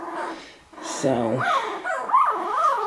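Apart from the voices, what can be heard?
puppies whimpering and yipping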